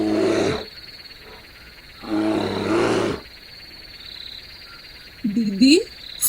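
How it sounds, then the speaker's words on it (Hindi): A bear roars in a deep-forest cartoon scene: two loud, rough growling bursts a couple of seconds apart, then quieter ambience with a shorter cry near the end. "भालू का आवाज है"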